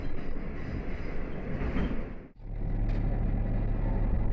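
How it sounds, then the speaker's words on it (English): A train on the Nishikigawa Clear Stream Line in Yamaguchi, with a steady loud rumble of wheels and carriage noise, a brief dip in the middle, then a continued running drone with a low hum. "Train stops at Shuchi, Kasagami, Minamigochi, Yukaba, Kitagochi, and Makuno before heading towards Nagua."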